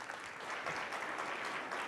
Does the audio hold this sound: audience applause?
yes